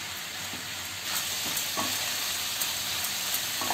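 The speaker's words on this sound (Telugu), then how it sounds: "పాస్తాని యాడ్ చేసుకుందాం. బాగా మిక్స్ చేసుకుందాం." Pasta tossed with vegetables in a hot pan, a steady close sizzle and frying hiss with soft scraping stirs breaking through at irregular intervals, no voices.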